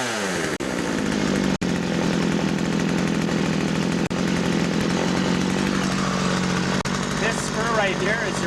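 A Poulan chainsaw fires up and runs continuously, a loud, close two-stroke engine roar with slight revving and a few brief dips, the engine dominating throughout.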